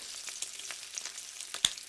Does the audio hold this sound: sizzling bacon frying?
yes